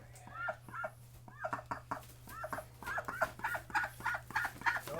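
A small duck being held for eye drops gives a run of repeated quacking calls, close and insistent, speeding up toward the end over a low steady hum, with no words spoken.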